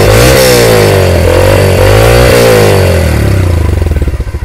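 A 2018 Yamaha YBR-Z motorcycle engine revs loudly up close, climbing and dropping in quick repeated blips before slowing into a rough, pulsing idle.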